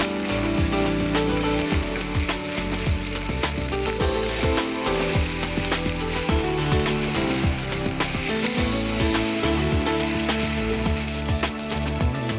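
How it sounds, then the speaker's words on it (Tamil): Food sizzles and crackles in oil over a low flame while cooking a Kerala-style dish, a dense, continuous frying hiss close by with occasional stirring scrapes and no talking. "சிம்லேயே நம்ம வந்து அதை ஃப்ரை பண்ணிடலாம்"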